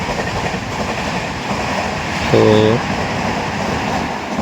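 A train rushes past at speed on the opposite track near a Chennai suburban station, with a loud, steady rumbling roar heard from inside a moving train and a brief tonal horn partway through. A voice speaks briefly.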